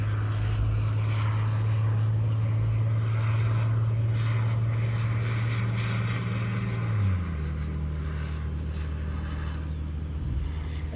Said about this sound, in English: every time a plane takes off I hear loud jet engine noise instead.